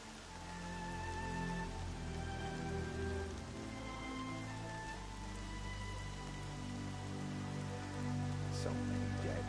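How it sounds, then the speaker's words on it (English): Steady rainfall pattering on surfaces in the video game Horizon Zero Dawn, continuous and moderately loud with faint tonal ambient music beneath and no talking. "More rain. My boots will get damp."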